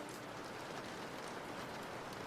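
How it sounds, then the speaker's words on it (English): Steady, dense rain patters outside a window, a constant soft hiss of drops on surfaces with no pauses and no voices. "Unless it rains. Which it is still doing out of my window."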